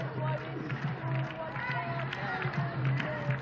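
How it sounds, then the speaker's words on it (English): Football supporters at the Right to Dream Stadium during a CAF Women's Champions League group match, their steady crowd noise rising and falling continuously beneath a commentator's voice. "Now the crowd here at the Right to Dream Stadium getting involved."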